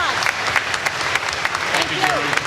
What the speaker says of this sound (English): I think anybody that's on the board deserves a round of applause, don't you think?